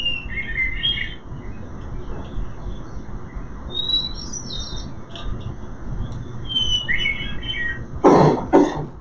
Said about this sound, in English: The hermit thrush, is generally a secretive bird that nests further up,